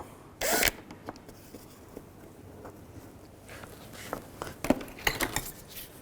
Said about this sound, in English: Use a T30 socket. Take that out.